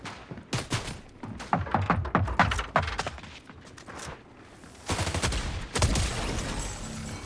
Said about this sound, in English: Someone else is taking pot shots at me.